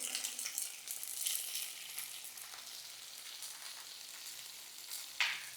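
Winter vegetables seasoned with salt and turmeric fry in a pan, a soft, continuous sizzle with occasional stirring rustles and one brief scrape near the end, fairly quiet and free of talk.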